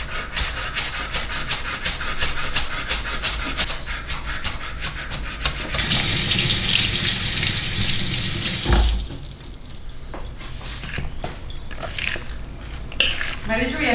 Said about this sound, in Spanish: Ahora voy a cortar cilantro.